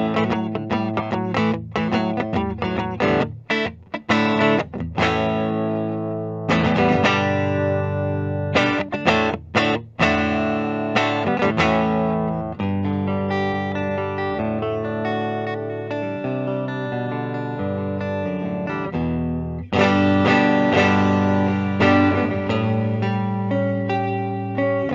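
A 2006 Gibson Les Paul Goldtop electric guitar played through its P-90 neck pickup with distortion and chorus effects, strummed chords and picked riffs ringing out loud and continuous with brief pauses.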